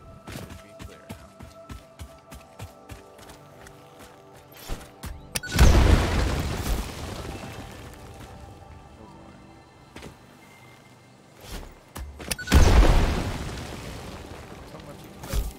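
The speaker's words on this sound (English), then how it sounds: "So much explosion." Two heavy explosions boom in the video game Satisfactory, each a loud, deep blast with a rumbling tail, set apart by several seconds of quieter mechanical ticks and clicks.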